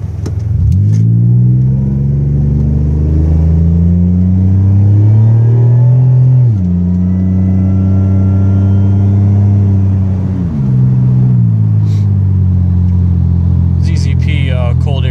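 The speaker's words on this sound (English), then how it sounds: "just so you can hear the supercharger whine a little bit" Interior view of a supercharged Pontiac Grand Prix GTP with a ZZP 3-inch exhaust and ZZP cold air intake accelerating: a loud, droning engine climbs through revs, dips at two gear shifts, and carries a thin supercharger whine above the exhaust.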